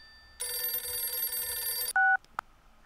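A toy-play telephone rings with a steady electronic tone lasting over a second, followed by a short louder beep and a faint click, alone with no talking.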